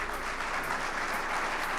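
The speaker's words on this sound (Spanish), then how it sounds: "Un aplauso." An audience at a business forum breaks into steady, dense applause that fills the whole moment, with no voices rising above the clapping.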